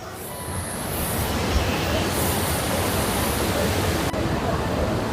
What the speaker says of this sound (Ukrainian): А ось і сам водоспад.